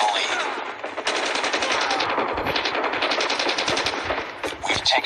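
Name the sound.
shotgun gunfire in the video game COD Mobile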